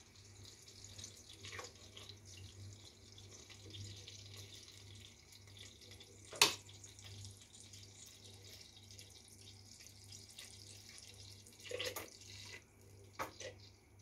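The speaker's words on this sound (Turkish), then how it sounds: "Pirincimi yıkadım. Nişastalı suyu aktı." Tap water runs faintly into a pot as rice is rinsed in a home kitchen, with a low steady trickle, a few soft splashes and clinks, and a sharp click near the middle.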